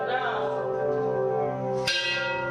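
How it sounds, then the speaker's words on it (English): Bells ringing with a sustained, harmonic tone that decays slowly, followed by a second bright strike near the end, heard close and alone without talk. "I'm ringing the bells"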